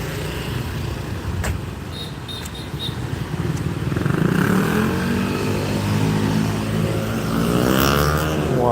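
A car drives by on a busy Bangkok street, its engine swelling as it approaches close and then rumbling on under general street noise.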